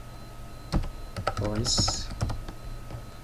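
Fingers tap on a computer keyboard in quick, uneven bursts of clicks and clacks, with a voice speaking briefly over the typing.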